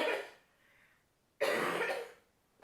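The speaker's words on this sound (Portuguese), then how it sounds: "Aí o paciente tosse assim." A dental implant patient coughs in two harsh, breathy bursts separated by a brief pause, loud and close in a quiet room.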